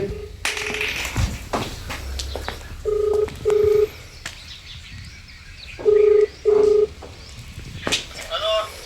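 An unanswered phone call gives two pairs of short electronic ringback beeps, spaced a few seconds apart, over background chatter and outdoor noise.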